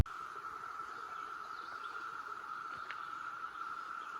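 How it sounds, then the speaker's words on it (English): A chorus of 17-year cicadas near a spring makes a steady, unbroken high drone that sounds distant and fairly faint against quiet outdoor background. "can you hear that in the background? That's them 17-year cicadas."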